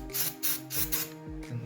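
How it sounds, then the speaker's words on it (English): Silicone oil sprayed from an aerosol can into the air tube of a Sumatra 5.5mm 500 cc air rifle, three or four short hissing bursts in quick succession, close by, with no talking. "I like to give it a nice spray of silicone oil"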